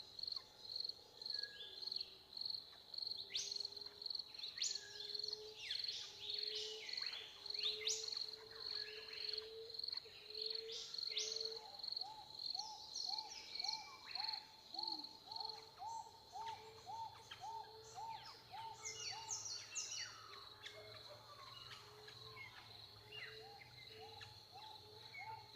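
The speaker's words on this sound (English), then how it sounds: "as the birdsong breaks the silence, just resting for a little longer and listening to the birds" An evening outdoor chorus of birdsong under steady cricket and insect trilling, with repeated high chirps, a run of rhythmic hoots and scattered calls, all fairly soft and continuous.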